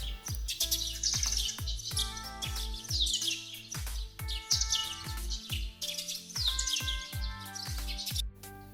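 A sparrow chirps and tweets in quick repeated bursts, fairly close, over a steady rhythmic musical backing with regular low notes and no talking.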